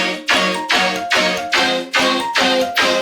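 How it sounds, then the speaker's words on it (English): Synth marimba in an electronic drop, a loud, regular run of six or seven bright struck notes each decaying quickly, layered over pulsing bass hits in an even rhythm with no voices. "And now with the marimba sound."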